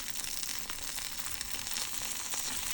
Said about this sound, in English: And it's called Banh Xeo because the xeo is the noise it's making